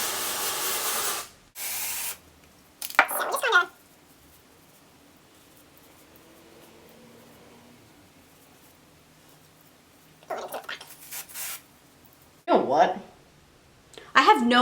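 Hairspray sprayed onto dark hair in several short bursts of loud hissing, separated by quiet pauses, with a little talking between sprays.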